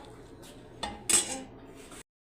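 Ceramic plates and dishes clink and clatter close by in a home kitchen. A few sharp knocks come in a loose sequence, with the loudest clatter in the middle before the sound cuts off abruptly.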